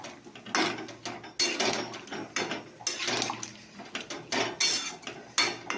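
Metal utensil scraping and clanking against a cooking pot as spiced food is stirred, in repeated irregular strokes close by, with no talk.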